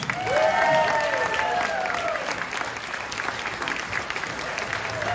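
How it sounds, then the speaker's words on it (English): An audience at a comedy club breaks into applause welcoming a comedian to the stage, a burst of clapping that swells then gradually thins, with a voice briefly over the start. "give her a great round of applause to welcome our own funny lady, Joey Sims"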